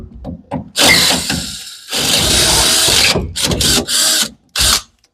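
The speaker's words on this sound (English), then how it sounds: "then we'll come back with a 7/16 here. Maybe. This little drill can do it." A small handheld power drill boring a 7/16 bolt hole for a rollcage kicker, running in several loud bursts of whine and grinding separated by short pauses, close up with no talking.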